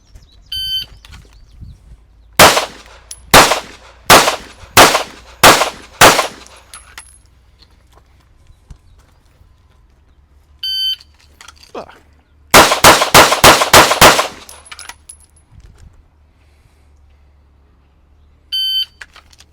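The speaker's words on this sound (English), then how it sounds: "shooting 6-round strings at the aiming reference in the center of the target" Pistol fired at a target on a range in two rapid strings of six sharp, loud cracks, each string preceded by a short electronic timer beep, with quiet pauses and further beeps between.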